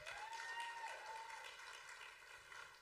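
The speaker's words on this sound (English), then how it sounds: "Please give him a round of applause." An audience applauds a South African jazz pianist at a public lecture, a faint, distant patter of clapping with a sustained tonal hum running beneath it.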